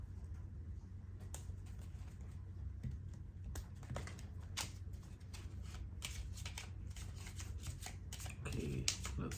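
Tarot cards being shuffled by hand, a close run of quick, irregular papery riffles and taps, soft and continuous over a low background hum.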